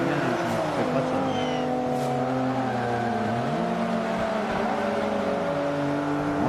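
Racing cars in Forza Motorsport 5 overtaking on track, engines whining and shifting pitch continuously at close range with occasional tyre squeal, a steady loud game mix.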